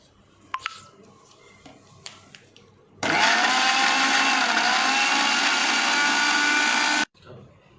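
A kitchen blender grinds ginger and garlic with water into paste, a loud, steady high whine lasting about four seconds after a few light knocks and clatters, then cutting off suddenly.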